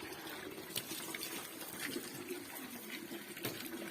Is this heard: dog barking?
no